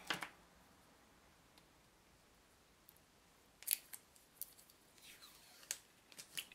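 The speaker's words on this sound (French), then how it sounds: "je vais tous enlever le scotch comme ça" Sticky tape is peeled off Essence lipstick packaging in a few quick, crackly rips, quiet and close, separated by near silence.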